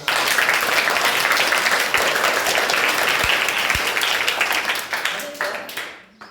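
Schoolchildren and guests at a government primary school event in a village applaud with dense, sustained clapping, loud and close, tapering off near the end.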